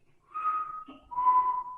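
A person whistles two clear, sustained notes close by, the first slightly higher than the second, in a quiet room with no speech.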